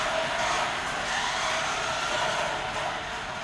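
A 2016 Chevy Camaro RC car drives with a steady high-pitched electric motor whine, fairly loud and close, holding constant without pauses.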